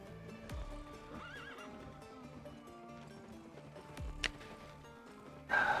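Horse neighing in a video game, a clear whinny followed by clip-clop hoofbeats over steady game music, with a louder burst near the end.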